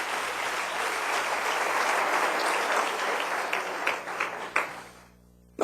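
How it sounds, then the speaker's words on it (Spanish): A church congregation breaks into sustained applause for the blessed King during a sermon, a dense wash of clapping that thins into scattered claps and stops abruptly near the end. "denle un aplauso al Rey bendito"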